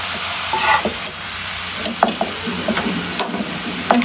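Onions frying in oil for chicken biryani, a soft steady sizzle with occasional scraping stir strokes and light clinks of a utensil against the pan, heard close with no talking.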